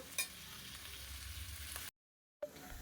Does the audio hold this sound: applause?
no